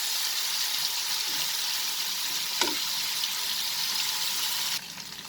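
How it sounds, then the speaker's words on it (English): Prawns stir-frying in hot oil over a high flame give a steady close sizzle, with a brief clink of stirring partway through, and no talk. "Now increase the flame and fry them for 2 minutes over high flame"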